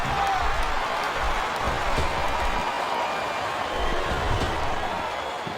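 Dense, steady crowd roar from a wrestling arena in SmackDown vs Raw, a Royal Rumble 2006 championship match between Kurt Angle and Mark Henry, with faint thuds and bursts rising out of the continuous cheering.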